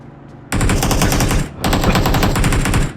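Video game gunfire, loud rapid machine-gun bursts: one sustained stream of shots, a brief break, then a second long burst, with no talking over it.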